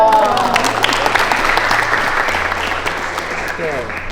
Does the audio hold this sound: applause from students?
yes